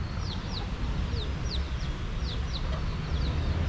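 Chickens at a Thai temple cluck repeatedly in quick bursts over a low, steady outdoor rumble, a run of short calls spaced through the moment.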